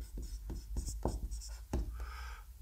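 Chalk or marker writing an answer on a board during a Class 12 maths lesson on relations, a series of short scratchy strokes in an uneven rhythm, close and fairly loud, with faint talk underneath.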